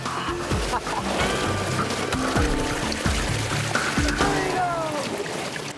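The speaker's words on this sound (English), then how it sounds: "the water rushes in." Water pours and gurgles steadily into a sinking car, a loud continuous rush with splashing and trickling; a voice talks faintly underneath.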